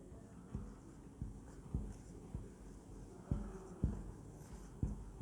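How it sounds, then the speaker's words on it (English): Handwriting on paper, a series of about ten distinct soft taps and scratches at an irregular, unhurried pace, close and quiet against a faint background hum. "when I just try to write one example"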